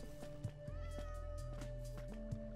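Cats meow in Minecraft Bedrock Edition, several short repeated mews over a low steady game drone and tonal hum.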